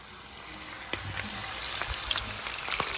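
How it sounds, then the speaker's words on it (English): Sausage browns in oil in a pan, giving a constant close sizzle with scattered sharp pops and crackles and no voices. "So we're going to let that brown"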